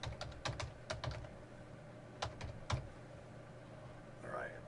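Bursts of typing on a computer keyboard while filling in a Gmail signup form, clusters of quick, close keystrokes separated by pauses, with a faint voice near the end.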